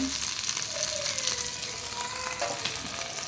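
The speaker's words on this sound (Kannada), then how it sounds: "ಬೇಗ ಪಟ ಅಂತ ಫಿಶ್ ಫ್ರೈ ಮಾಡಬೇಕು ಇದು ಬಾಂಗ್ಡಾ ಫಿಶ್ ಆಯಿತಾ" Bangda mackerel fish frying in hot oil in a pan over a raised flame, giving a steady, close crackling sizzle throughout with no talking.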